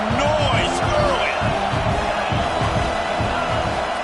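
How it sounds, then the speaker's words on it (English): Stadium crowd noise in College Football 26 during a big rivalry game: a continuous roar of cheering fans, with whoops and a whistle-like tone, under a steady play-by-play commentator's voice throughout. "This crowd bringing the energy and noise early."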